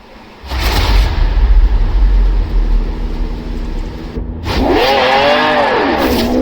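A McLaren road car engine in Forza Horizon 4 revs hard, a loud close roar that holds steady, then drops briefly before rising again with a wavering, climbing whine as it accelerates, with no voices.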